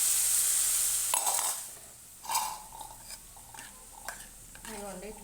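Spinach frying in a pot and being stirred, with soft, irregular scraping and clinks over a faint, steady sizzle, quieter in the middle and close by.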